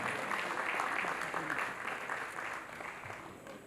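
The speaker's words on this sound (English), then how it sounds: "A round of applause for Mrs. Chika as she makes her way to the podium, please." An audience claps steadily at an award dinner night as a woman walks to the podium to receive a Lifetime Achievement Award, a dense, continuous applause that holds strong and then eases slightly toward the end.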